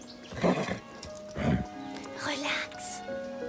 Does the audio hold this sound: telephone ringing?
no